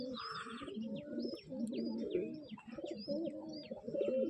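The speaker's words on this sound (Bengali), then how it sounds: "খুবই সুন্দর, অসাধারণ একটি পায়রা।" Soft repeated cooing of a pigeon, close by and fairly quiet, with rolling low throaty calls in an irregular rhythm and a few thin chirps above.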